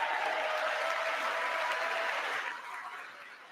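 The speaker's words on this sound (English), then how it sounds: "the Republicans are standing and cheering" Members of Congress applaud and cheer during Trump's speech to a joint session: broad, steady clapping from a large chamber that softens in the last second, heard somewhat distantly.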